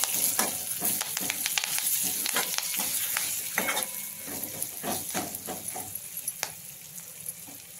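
Curry leaves, turmeric and masala sizzle and crackle in hot oil for a soup of drumstick pods, a steady close frying hiss broken by sharp pops and spoon stirring against the pan, with no talk.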